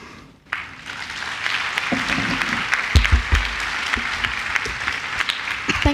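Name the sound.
audience applause for speaker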